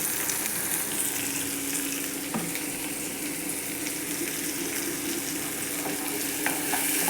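Capsicum gravy sautéed with salt in a pan, a continuous close frying sizzle with occasional faint utensil scrapes and stirring.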